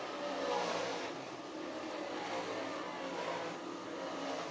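Modified race cars roar around Can-Am Speedway during a 25-lap feature, a dense blend of engines revving and passing through the corners at a steady, distant-to-mid level with no speech over it.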